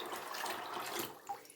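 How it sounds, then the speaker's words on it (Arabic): Water pours in a steady splashing stream onto lupin beans soaking in a pot, close by, ending with a brief drip-like plop. "فانا هجيب ميه كمان"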